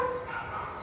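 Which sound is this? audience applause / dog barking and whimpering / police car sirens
dog barking and whimpering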